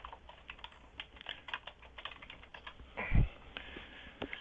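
Fingers tap a computer keyboard in quick, irregular bursts of clicks, faint and close, with one louder thump partway through.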